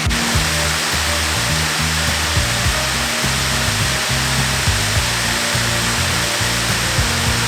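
A steady, loud rush of falling water from a waterfall at Chimney Rock State Park fills the scene as continuous broadband roar, with no voices and a low mechanical-sounding rumble mixed underneath.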